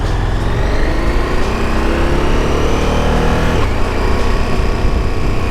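KTM 1290 Super Adventure motorcycle accelerating hard through the gears, loud engine revs rising in pitch with a sharp quick-shifter change partway through before climbing again, close and continuous.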